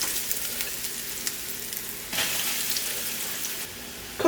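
Breadcrumb-coated food fries in oil in a pan with a steady close sizzle that swells louder partway through, then settles back to a quieter crackle.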